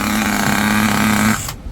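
Electric reverse motor of a vintage Nikko GP 15 radio-controlled car, a steady high whine held close and loud for over a second before cutting off abruptly.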